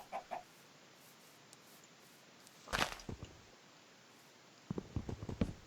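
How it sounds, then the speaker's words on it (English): Sparse Minecraft chicken clucks break a quiet background: a short cluck at the start, a louder burst midway, then a quick cluster of clucks near the end. "Hey, chicken, I'll take your eggs."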